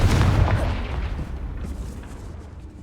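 A Confringo blast spell in Hogwarts Legacy booms out as one loud, close explosion that decays over a couple of seconds, with no voices over it.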